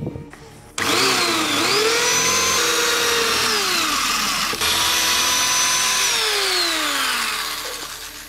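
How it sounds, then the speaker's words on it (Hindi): A power drill bores a hole into a metal dish antenna plate, whining loudly and steadily with pitch sweeps as it bites, briefly pausing midway and then winding down at the end. "इसमें भी मैं होल कर दे रहा हूँ"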